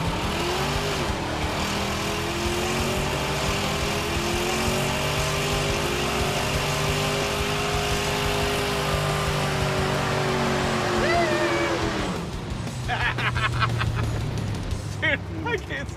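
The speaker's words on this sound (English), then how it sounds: "Corvettes do great burnouts" Corvette doing a burnout: a loud, sustained engine roar and tire squeal held for about twelve seconds with a rising whine, then dropping to a rougher idle with clattering and crowd noise, voices in the background.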